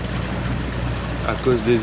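Steady broadband wind rushes over a sailboat at sea in the Caribbean near Guadeloupe, with low rumble and water noise throughout; a faint tonal whine rises near the end.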